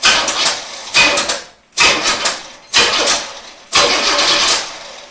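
A 1973 Corvette big-block V8 roadster's starter cranks in four short bursts, each a loud churning whir lasting about a second, separated by brief pauses, with no talking.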